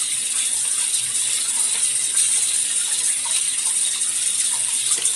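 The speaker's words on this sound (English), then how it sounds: "I'm going to run some water real quick." Water running steadily from a tap into a sink, a constant hissing gush with no talk, moderately close for about five seconds.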